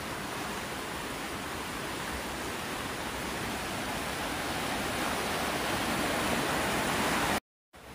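A continuous, powerful roar of rushing river water and falling cascades fed by snowmelt near Interlaken, Switzerland, dense and unbroken, cutting off abruptly near the end.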